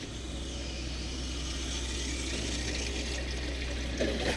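Steady hot water running from a camper tap, a continuous even hiss that holds at a constant level for the whole stretch, with no voices.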